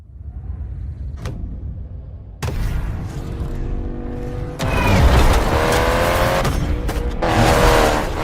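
In the Need for Speed Payback racing game, a Honda S2000 roadster's VTEC engine revs hard and drives off, its loud high-pitched wail rising in bursts with tire squeal and skidding.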